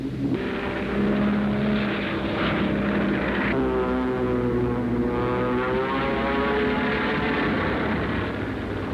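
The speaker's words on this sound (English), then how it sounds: "American 8th Air Force fighter bombers swooped down to hit the Nazis" Steady drone of World War II American 8th Air Force fighter-bomber propeller engines from 1944, a loud continuous roar with a pitch shift partway through as the aircraft pass, heard alone.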